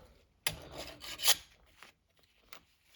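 A hand file rasps across the rakers of a STIHL HEXA saw chain in a few short, scraping strokes, close and fairly quiet, separated by brief pauses.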